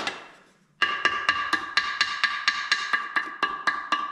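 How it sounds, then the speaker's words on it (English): A ball peen hammer taps rapidly and evenly on gasket material, striking about a dozen sharp metallic blows in steady rhythm after a brief quiet moment, close and clear with no talking. "I'm trying to let the hammer tear this"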